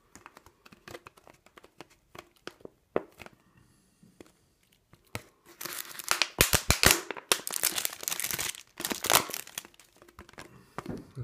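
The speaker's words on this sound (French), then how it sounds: "je vais prendre la bouteille en plastique, je vais la découper à ce niveau-là" A plastic bottle is cut apart for a hornet trap, starting with sparse light clicks and taps, then turning into a dense run of loud, close crinkling and crackling snips of the plastic.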